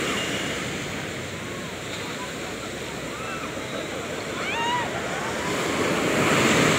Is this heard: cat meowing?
no